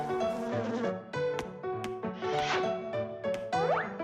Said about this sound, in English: Here, little bee.